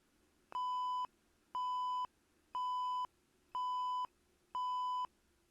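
An electronic elevator alarm beeps five times in a steady rhythm, each tone about half a second long with equal pauses, clear and alone.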